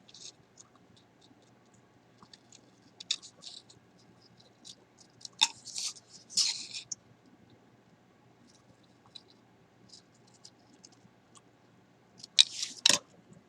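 Scissors snip through paper pieces for a craft bridge model, a few short crisp cuts scattered across a quiet room with long pauses between them.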